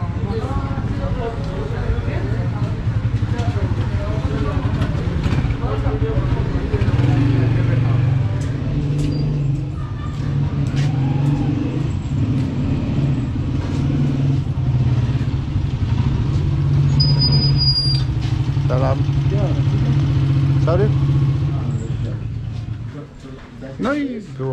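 Street traffic with combustion engines in old Rawalpindi, Pakistan: a continuous low rumble of cars and motorcycles with scattered clatter and horn blips, while people talk over it nearby.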